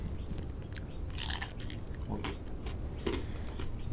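Close, quiet crunching bites and chewing on crisp, salty pork crackling, several sharp crackles followed by softer mastication.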